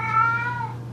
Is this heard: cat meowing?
yes